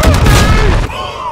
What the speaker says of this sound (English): I haven't seen the C4 before in the game. That is a huge explosion.